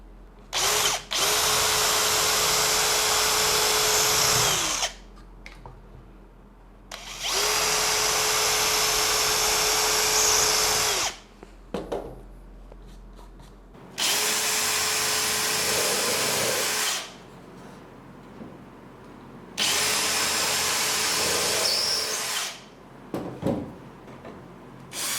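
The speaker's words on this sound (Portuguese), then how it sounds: "eu vou fazer o pré-furo na frente do gabarito" A power drill bores a pilot hole into clamped wood while assembling a compact Rivertools router table, running in four sustained loud bursts separated by pauses with small handling clatter.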